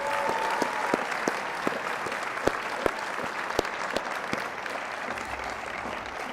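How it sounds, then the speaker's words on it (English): A faculty-meeting audience applauds steadily for several seconds, a dense wash of clapping with a few sharper, louder claps standing out, with no talking over it. "So how about we give them a round of applause?"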